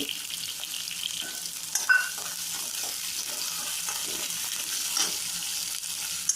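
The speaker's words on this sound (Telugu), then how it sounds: "వేసి బాగా వేయించుకోవాలి ఒక ఎండుమిరపకాయ వేసి వేయించాలండి" Garlic, chopped onions and curry leaves fry in a pan, a soft continuous sizzle with gentle stirring scrapes and a couple of brief louder clinks near two seconds, unaccompanied by speech.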